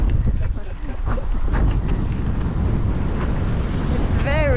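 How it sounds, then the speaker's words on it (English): Strong wind on a lake buffets the microphone in a continuous loud roar while kayaking, with splashing water and faint gull-like calls near the end. "It's really windy today"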